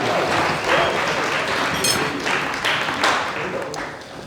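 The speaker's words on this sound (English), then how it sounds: "Massive round of applause," Wedding guests give a sustained round of applause at the speeches, dense clapping from a roomful of people with a few whoops, heard at moderate distance and tapering slightly toward the end.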